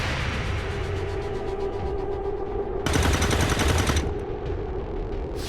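An alien in XCOM 2 fires a reaction shot as a single burst of rapid weapon fire about a second long, loud over a steady humming game background.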